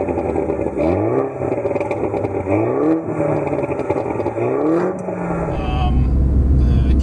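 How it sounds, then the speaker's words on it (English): A Mini JCW engine revs repeatedly with rising pitch sweeps, a few sharp exhaust crackles and pops between the revs, loud and close. "you do get a few bangs and pops out of the exhaust system as well."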